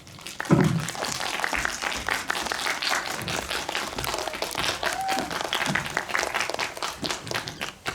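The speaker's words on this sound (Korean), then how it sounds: "배우님 모시겠습니다. 박수 부탁드릴게요." An audience at a Korean film screening guest-visit event at World Tower applauds to welcome actor Yeon Woo-jin on stage, a sustained burst of clapping that swells and continues for several seconds, with faint voices underneath.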